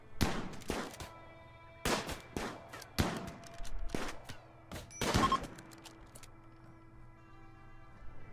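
Gunfire in RimWorld Alpha 17, scattered sharp shots and short bursts at irregular intervals with quiet gaps between, moderately loud against a faint background.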